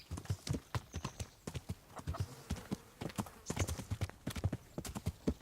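Horse hooves clip-clop steadily on the ground in the medieval action game Kingdom Come: Deliverance, a quick, even rhythm of sharp strikes heard close and alone, with a faint whinny mixed in.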